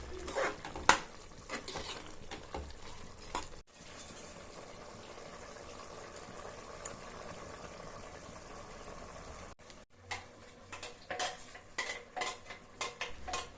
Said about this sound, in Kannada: ಉಪ್ಪು ಮತ್ತು ಅರಿಶಿನ ಹಾಕೊಂಡು ಚೆನ್ನಾಗಿ ಕಲಿಸ್ಕೊತಾ ಇದ್ದೀನಿ.